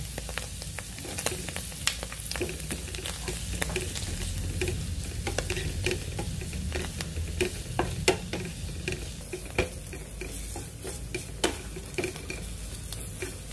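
Flour and mushrooms stirred and fried in a pan for a chicken mushroom sauce, with a steady close sizzle and repeated spoon scrapes and clinks against the pan.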